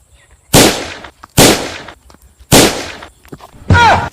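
Four sharp, loud gunshot-like bangs from a gun in a comedy skit, spaced about a second apart, each with a brief decaying tail, the last one mixed with a short voice.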